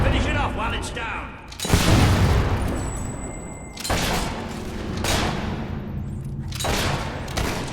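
Loud gunshots and heavy booms from the video game Fable 3 land in several separate bursts, each decaying into rumbling ambience, with game noise filling the gaps.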